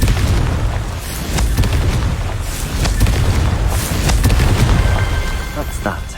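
A Confringo blasting spell explodes in Hogwarts Legacy, a loud, rumbling boom with repeated heavy blasts and debris crackle that fills the whole moment, with a voice heard among the noise.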